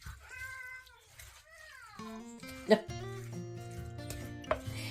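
A cat gives a few meows amid household sounds, with a short clatter partway through and a person's voice nearby.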